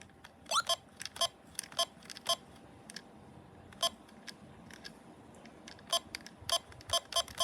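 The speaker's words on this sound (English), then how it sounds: "But all it does is make a beeping noise." The pause button on a Neo Double Games handheld sets off short electronic beeps, each brief and crisp. They come in irregular clusters, near and quiet, over a faint background hiss.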